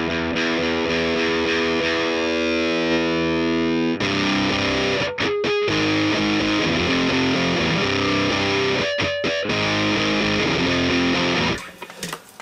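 Heavily distorted electric guitar playing sustained chords and riffs through a Kemper amp, loud and continuous, with a few brief choppy breaks.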